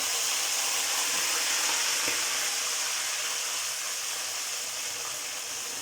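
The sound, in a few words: ingredient slowly added and stirred into melted browned sugar, sizzling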